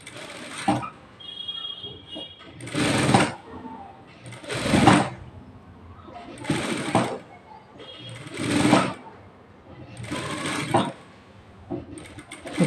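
A sewing machine stitches thread piping along a marked line on a work blouse, running in several loud, steady bursts of about a second each, separated by short pauses and quieter handling sounds.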